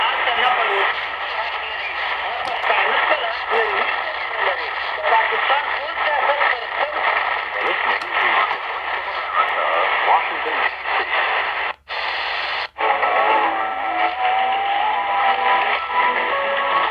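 A portable radio fed by an MLA-30 loop antenna, sweeping through frequencies: steady hiss and static with fragments of stations breaking through, and two brief dropouts near the end, loud and close.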